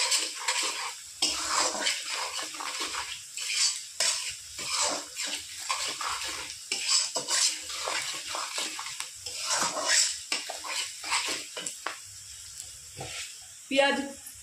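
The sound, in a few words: onions frying and stirring in pan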